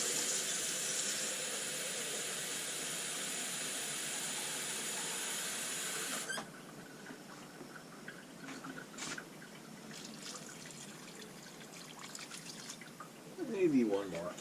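Water pours into a pot of grass-fed beef stew in a farm kitchen, a steady hiss for several seconds that stops, followed by quiet kitchen sounds and a brief trickle near the end.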